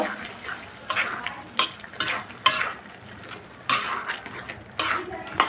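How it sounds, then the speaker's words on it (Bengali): A spoon stirs raw tomato curry mixed with mustard-poppy seed paste in a pan, making repeated close metallic scrapes and clatters in an irregular rhythm over a faint simmer. "এখন নেড়ে চেড়ে আমি পানিগুলা শুকিয়ে নিব"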